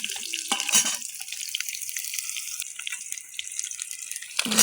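Potato and kohlrabi frying in a pan as they are stirred, a steady close sizzle with brief scraping and clinking of the spoon, no voices over it.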